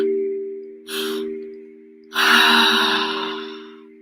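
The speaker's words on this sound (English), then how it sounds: "Fill up the belly and hold it. Pull all of that energy up into the heart and hold it. And then exhale everything out." A slow, deep breath drawn in and then released in a long, full exhale during a guided breathwork session, heard close and alone over a steady low electrical hum.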